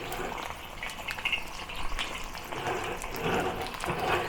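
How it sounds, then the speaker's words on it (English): Fish pan frying in moderately hot oil in a wok, a steady close crackling sizzle with brief louder spatters, running continuously with no voices. "Heat the oil to moderately hot, and then put the fish right at the center. And pan fry the fish."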